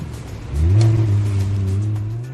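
A Lamborghini Huracan engine revs up sharply while drifting on a snow- and ice-covered lake, then holds a sustained loud roar close by.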